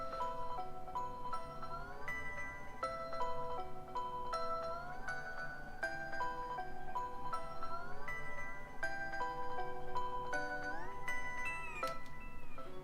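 Looped bell melody with gliding notes, washed in delay and reverb, plays steadily and fairly quietly for the whole stretch, bright tones stepping up and down over a low sustained bed, for a dark melodic rap beat.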